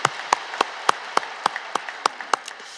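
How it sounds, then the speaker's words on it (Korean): A worship congregation at Yoido Full Gospel Church gives a round of applause after prayer, heard as a regular rhythm of sharp unison claps, about ten beats, fairly close and alone. "하나님께 우리 영광과 감사의 박수 한번 힘차게 올려드립니다"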